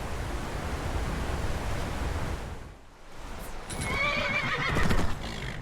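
A horse in the video game Skyrim gives a clear whinny near the end, rising over a steady rushing wind-like background that briefly dips midway, with no talking.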